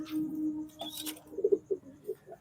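Pigeons in a loft where paired birds sit with their young, giving soft, close, throaty coos in a short rhythmic run after a couple of longer low notes, otherwise quiet.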